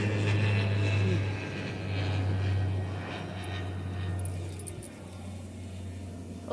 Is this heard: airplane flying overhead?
yes